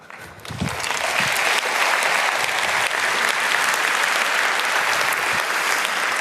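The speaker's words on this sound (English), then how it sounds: "That's not my applause, that's your applause, because you make this possible" A large conference audience at a talk on physics data analysis breaks into applause, starting softer and quickly swelling into dense, loud, sustained clapping.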